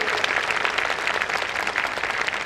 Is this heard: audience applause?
yes